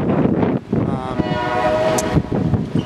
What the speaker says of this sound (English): Y'all can hear the train.